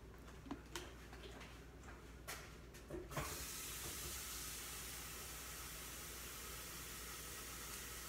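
Tap water runs in a steady, close hiss into a pot to fill a coffee maker, after a few light clicks and knocks in a kitchen.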